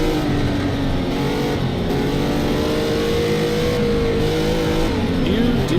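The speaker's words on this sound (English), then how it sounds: "Yep, that's a Porsche that's gone off into the dust." A Porsche GT3 race car in a racing video game drones loudly and continuously, its engine note holding steady and rising slightly in pitch as it accelerates, with a brief faint voice near the end.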